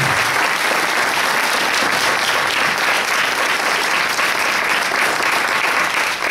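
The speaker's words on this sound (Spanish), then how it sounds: "Un aplauso para la madre." A congregation in a church sanctuary applauds the mother, a dense, loud, sustained wash of many hands clapping without pause and no voices on top.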